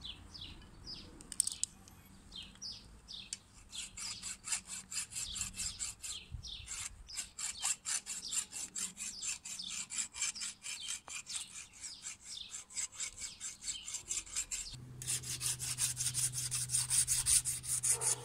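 A hand file rasps steadily against metal while shaping an antique key copy, cutting slots and corners in rapid, even strokes, close and continuous.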